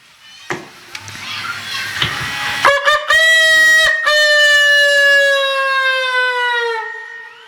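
A voice imitates a rooster crowing: a long, loud, harmonic cry that rises and then holds steady, following a burst of lively children's chatter.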